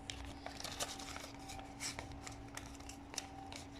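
A paper envelope is worked open with faint, close rustles and a few soft crinkling bursts against a quiet room hum.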